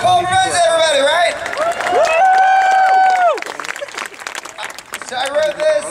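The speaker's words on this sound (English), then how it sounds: "Keep clapping for Paul Revenge, everybody" A rally audience cheers and claps for a performer, the crowd noise rising to loud whoops that hold and then fall away, with scattered clapping continuing afterward under other sounds.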